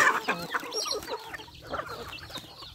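Chickens on a poultry farm, among them a prized expensive bird, cluck repeatedly in a busy, close chorus with no talking.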